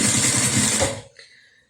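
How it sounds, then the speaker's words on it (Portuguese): Sewing machine running a tight stitch along a bag closure, a loud close rhythmic whir for about a second before stopping. "Lembrando que é o fechamento da bolsa, então tem que ser uma costurinha relativamente apertada."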